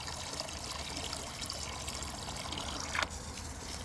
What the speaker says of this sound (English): Water's trickling out of the hole.